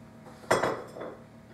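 A little ceramic bowl, an heirloom, set down and handled for mixing a meatloaf sauce: one sharp clink followed by a softer rattle, close and brief in an otherwise quiet kitchen.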